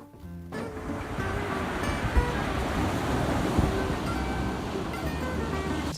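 Ocean surf washing in steadily, a broad continuous rush of breaking waves with wind noise buffeting the microphone, loud and close throughout with no talking.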